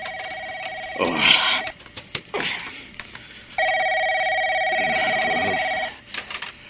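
An old-style telephone bell rings loudly twice in long steady bursts in a house before dawn, with voices talking between the rings.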